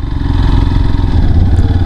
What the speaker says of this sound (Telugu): గేర్ మార్చకుండా స్లో స్పీడ్లో కూడా ఈ విధంగా బండిని నడిపించవచ్చు